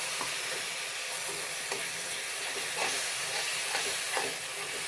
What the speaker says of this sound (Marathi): आता गॅस वाढवून ना त्याला फ्राय करून घेऊ मस्त व्यवस्थित.